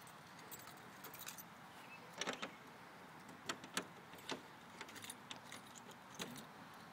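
A bunch of keys jangles in irregular bursts of bright metallic clinks, close and fairly soft, beside an 804-horsepower Ford Mustang, with no one talking.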